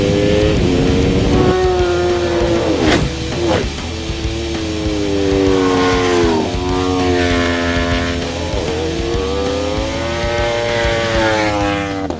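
An Aprilia RSV4 sport bike fitted with a full Akrapovic exhaust screams past on a racetrack, its loud engine note rising and falling through several gear changes and throttle sweeps, close and continuous with no talking.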